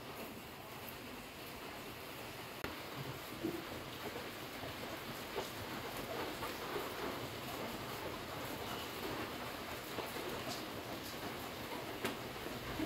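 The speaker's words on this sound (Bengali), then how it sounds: "বাইরে প্রচুর বৃষ্টি আর বাতাস," Heavy rain and wind outdoors, a steady dense hiss of downpour with gusty roar, continuous and fairly loud, with no one speaking.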